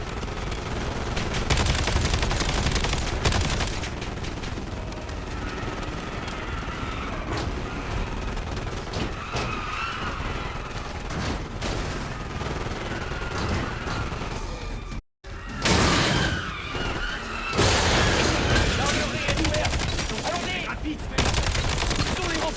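Rapid automatic gunfire and scattered shots in Call of Duty Black Ops 7 during a battle near turrets and carts, loud bursts filling the scene with a brief cut partway through.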